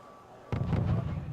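Artillery fire in the Wargame: European Escalation video game, a sudden heavy boom that rolls into a sustained rumbling barrage of overlapping explosions, loud and close after a quiet start.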